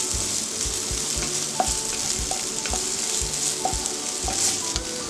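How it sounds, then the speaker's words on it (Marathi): Onion sautés over a full gas flame with a loud continuous sizzle and a regular rhythm of spatula strokes scraping the pan, with no voices. "कांदा, फुल गॅसवर परतून घेऊया। चांगलं परतून घेऊया।"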